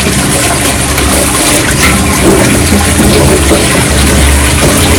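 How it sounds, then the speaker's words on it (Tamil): Fresh ginger root with soil still on it is washed under a running kitchen tap, a loud steady rush of water that continues unbroken, with no talking. "அதெல்லாம் போற அளவுக்கு நல்லா கழுவணும் இஞ்சியை"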